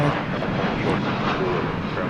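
Steady, loud roar of an airplane engine at DFW Airport, continuous and broadband with no gaps, nearby and unbroken throughout.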